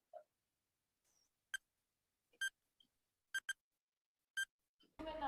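Several short electronic quiz buzzer beeps sound one after another in a quiet room during an online quiz competition, with brief gaps of near silence between them and a burst of noise at the end.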